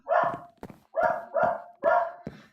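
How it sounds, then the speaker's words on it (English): A dog barks repeatedly at a door indoors, loud and close, with several sharp barks in an uneven rhythm and a brief whimpering yelp between them, no talking. "my dog is going nuts at the door for some reason"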